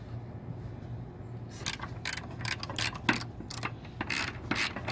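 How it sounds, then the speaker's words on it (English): A ratchet wrench snugs the bolts on special motor mounts in a Mercedes-Benz SLK55 AMG: a quick series of close, crisp clicking strokes in short bursts over a low steady background hum. "A little ratcheting here, just a little bit, just to make sure it's snug."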